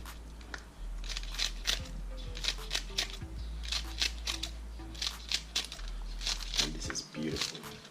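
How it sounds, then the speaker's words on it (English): Kitchen scissors snip spring onion in a series of quick, crisp cuts with a steady rhythm, heard close up under a low background hum. "The next thing I'm going to do is cut up some spring onion."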